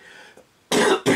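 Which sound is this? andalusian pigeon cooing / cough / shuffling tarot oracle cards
cough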